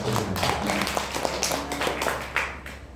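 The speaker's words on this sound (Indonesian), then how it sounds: "Berikan tepuk tangan." Scattered hand claps from a church congregation during an evening service, a few sharp separate claps and taps spread unevenly across the moment over a low background hum, fairly faint and sparse rather than a full ovation.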